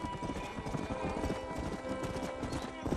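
Horse hooves clip-clop in a steady, rapid rhythm in the video game Red Dead Redemption, with game ambience and a faint whinny underneath.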